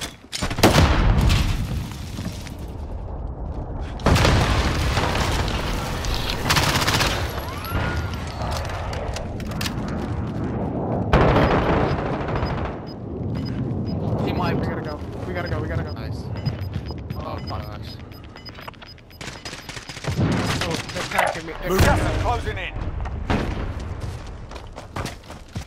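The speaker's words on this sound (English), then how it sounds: "There's someone sniping." Gunfire in a multiplayer shooter video game with a sniper on the hills, loud repeated shots and booms in bursts, layered under excited players talking over one another throughout.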